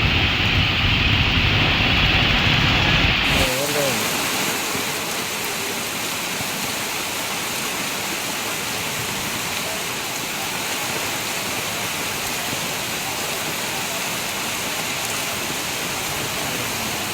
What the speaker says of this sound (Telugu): నాన్ స్టాప్ గా వర్షం కురుస్తూనే ఉండడంతో